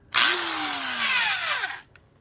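A Hitachi second-generation standard 3/8-inch utility drill revs up to full speed with a loud, high electric whine. It holds for about a second and a half, then spins down and stops.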